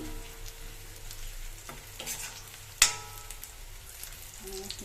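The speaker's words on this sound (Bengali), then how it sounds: "এখানে প্রায় পেঁয়াজটা লাল হয়ে আসছে" Onions fry and sizzle in a pan, a soft steady crackle with a sharp clatter of stirring partway through, fairly quiet and close.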